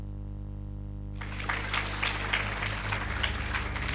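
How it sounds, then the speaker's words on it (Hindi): An audience breaks into applause at a spiritual class session after a low electrical hum, the clapping steady and moderately loud for the remaining seconds. "क्यों ताली बजाया?"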